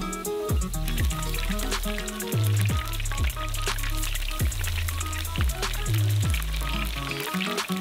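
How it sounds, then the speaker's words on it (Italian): Battered chicken pieces fry in a hot deep fryer at a street-food stall, giving a steady bubbling sizzle alongside rhythmic background noise that runs throughout. "Poi mettiamo un pezzo alla volta nella friggitrice calda."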